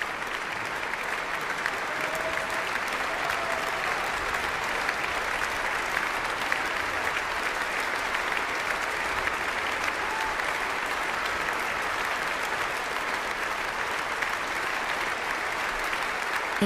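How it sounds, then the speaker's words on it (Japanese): A concert hall audience gives sustained, unbroken applause to a piano performer, calling for an encore. The dense clapping holds steady and loud throughout, with no voices standing out. "止むことのない拍手に応え"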